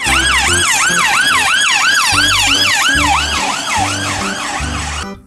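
Toy police car siren wailing in a fast repeating up-and-down cycle, loud and close, over a steady low electronic drone with pulsing beeps, running continuously for several seconds before cutting off.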